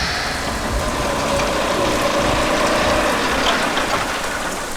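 Steady, heavy rain pours down in a film scene, a dense hiss of drops with no voices over it.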